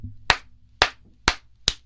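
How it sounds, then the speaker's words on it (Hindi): Four sharp hand claps swatting at a mosquito, spaced roughly half a second apart and close by, over a faint low hum with no talking. "ताली बजाते हो"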